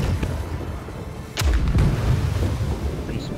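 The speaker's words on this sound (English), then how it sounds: "Keep firing. Just fire with normal shots" Ship cannons fire in the naval video game Blackwake. A deep, close boom lands midway over a steady rumble of game noise, followed by a fainter second report, with no talking.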